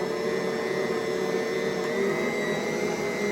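A steady, loud electric mixer whirs without a break as it kneads white bread dough, its motor holding one even droning pitch throughout.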